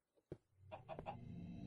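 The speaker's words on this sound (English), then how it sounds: "These are chickens." Chickens in the block-building game Minecraft, a few short clucks near and clear, spaced irregularly over a low steady background hum.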